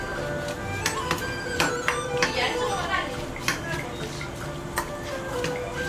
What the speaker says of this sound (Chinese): 一起搅拌均匀后备用